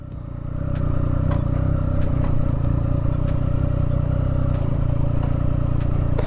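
A steady, loud engine drone from a motorcycle whose rider pushes a second motorcycle along at matching speed, with intermittent light clicks and rattles over the rumble.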